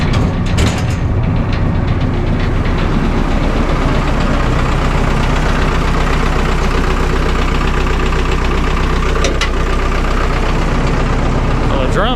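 A Vermeer 1800 wood chipper engine runs loud and close after its first start in four years, a steady heavy rumble with knocking mechanical clatter throughout and the clutch engaged.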